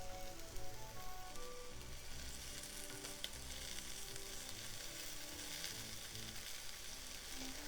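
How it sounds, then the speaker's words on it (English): Salmon sautéing in a little vegetable oil over medium heat, a steady close sizzle and crackle with some stirring, running continuously and fairly quiet with no talk. "I'm sauteing the salmon with a little bit of vegetable oil"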